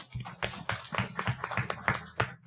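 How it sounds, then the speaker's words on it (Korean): An audience at a Korean author's book talk on banking gives scattered, uneven claps in quick bursts, with voices murmuring underneath. "박수 좀 보내주세요."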